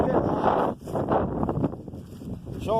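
Wind gusts through Needles Eye Woods on a windy New Year's Day, buffeting the microphone in rushing surges and easing off briefly, with a voice speaking near the end.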